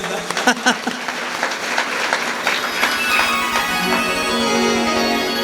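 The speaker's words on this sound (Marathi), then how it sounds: "टाळी वाजवा एकदा." An audience at a religious discourse gathering breaks into clapping, starting with a few sharp separate claps that swell into steady applause.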